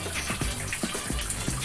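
Tap water runs in a steady gushing, splashing stream into a basin for hand-washing laundry, close and moderately loud, with no voices.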